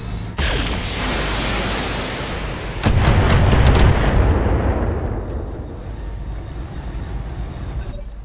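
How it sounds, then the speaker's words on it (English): A mech blows apart in the BattleTech video game: a loud boom sets off a rumbling roar, a second heavier crack-and-rumble hits a few seconds later, then everything trails off into a fading tail. "Enemy mech destroyed."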